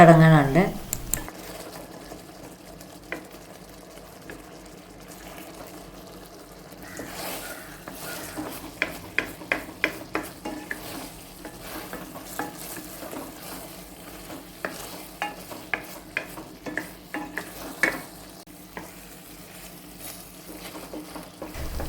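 Banana pieces thickening in jaggery syrup bubble quietly while a spoon knocks and scrapes the pan in a run of sharp, rhythmic taps, close and moderately loud, with a voice speaking over it.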